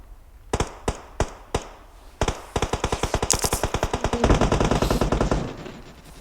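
Rapid bursts of gunfire from the PUBG Mobile video game: a few isolated loud shots, then sustained automatic fire that grows denser and louder toward the end, with no talking.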